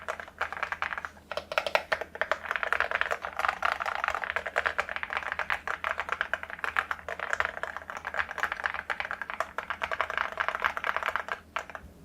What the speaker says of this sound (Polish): posłuchajcie sobie, jak te przełączniki działają.